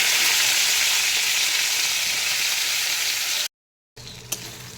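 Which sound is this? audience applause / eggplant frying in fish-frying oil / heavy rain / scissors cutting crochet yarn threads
eggplant frying in fish-frying oil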